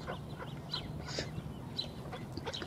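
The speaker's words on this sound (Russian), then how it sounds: "Птенцы хохлатые черники." Thin, high peeping calls of tufted duck chicks on water come in short scattered bursts over a steady low background hum.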